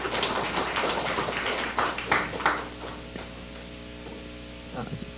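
Audience clapping at a health and sustainability forum as a medical professor from Pingtung Christian Hospital is welcomed, a broad burst of applause that thins out into scattered claps and fades.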